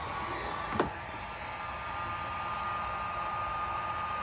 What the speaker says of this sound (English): I just like my cheap Harbor Freight heat gun here, and just heat it up